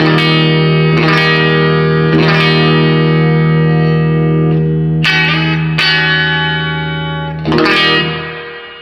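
Electric guitar through a Lundgren 60s vintage bridge pickup, strummed chords ringing out with sustained, effects-laden tone, a few sharp attacks every second or two, loud and alone.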